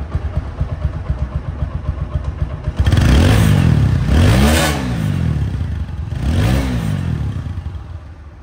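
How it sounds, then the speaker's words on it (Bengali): A second-hand Bangladeshi motorcycle with ABS, double disc brakes and a 4-valve engine runs loud and close after a quiet start, rising in two distinct revs that swell and fall back to a steady smooth idle, with no talk. "ইঞ্জিনের শব্দটা দেখেন, শিমশিম যে আওয়াজটা, শোরুম কন্ডিশন আওয়াজ"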